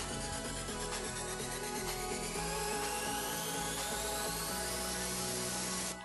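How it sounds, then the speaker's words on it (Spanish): Power drill running steadily for about six seconds, drilling a hole with a 3/16 bit in an aluminium window frame, a continuous loud whine with faint rising pitch, then cutting off at the end. "realice un orificio a 2 centímetros sobre la vena donde se colocará la hoja fija, con una broca de 316"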